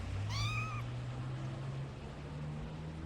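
A single short meow from a cat in the video game 1998: The Toll Keeper Story, clear and moderately loud near the start, followed by a low steady hum.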